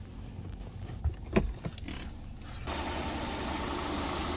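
A gas-powered 2017 Hyundai Sonata LF engine runs at a steady idle, a low continuous hum with a few soft knocks before the noise turns broader and steadier.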